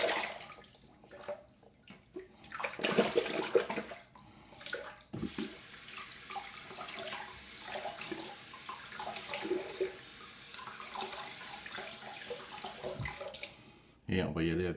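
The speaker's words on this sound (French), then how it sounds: "Donc, on va rincer la brosse." Tap water runs into a sink as a shaving brush is rinsed, the gushing and splashing rising and falling, with someone speaking at times over it.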